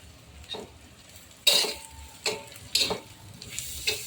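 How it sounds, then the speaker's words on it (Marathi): Tomato and curry leaves go into a pan of frying dried Bombay duck, giving several sharp sizzling bursts with stirring scrapes between quieter spells of low crackle. "आता टॅमॅटो घालूया कढीपत्ता घालूया"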